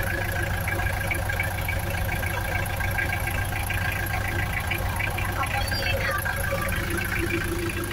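A Mitsubishi Canter truck with a 4M40 diesel engine idles close by, a loud, steady rumble with a faint knocking texture that runs unbroken throughout while people talk over it.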